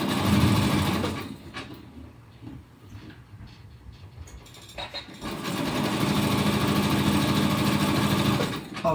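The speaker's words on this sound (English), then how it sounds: "sew straight, or as straight as I can." A sewing machine stitches elastic onto fabric with a loud, steady motor whir, stopping for a few seconds of quieter handling before running again at full speed.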